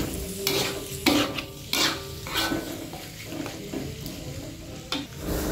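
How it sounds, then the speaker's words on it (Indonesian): Diced chicken thigh is stir-fried with spice paste for tongseng, sounding as a steady sizzle broken by scraping and clanks of a utensil against the pan at uneven intervals. No voices are heard. "Pokoknya dimasak dulu seperti ini dengan bumbunya sampai meresap ke paha ayamnya ya."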